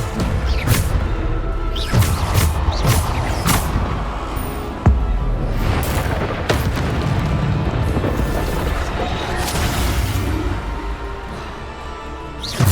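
Bombarda spell explosions from Hogwarts Legacy, a dense continuous roar of booming blasts and crashing debris with sharp impacts layered through the combat, loud and close throughout.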